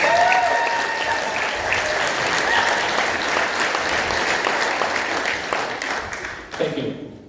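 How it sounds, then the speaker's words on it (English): Audience applause fills a school district board meeting room, steady dense clapping for nearly seven seconds before tapering off at the end. "Please join me in congratulating Ms. Patricia Lisa on this well-deserved honor."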